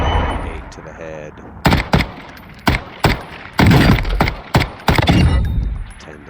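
Battle rifle gunshots in a first-person shooter video game, a series of sharp, loud bursts fired in quick separate groups, some running together into short volleys, over faint game background noise.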